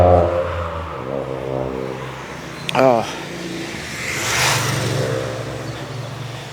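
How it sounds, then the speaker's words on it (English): A very loud car roars past outside in the early morning, swelling to a broad rushing peak and then fading, while someone talks nearby. "Very loud car."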